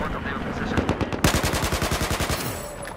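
Rapid automatic AK-12 rifle fire in the video game Battlefield 4, with a short burst followed by a longer sustained string of evenly spaced shots.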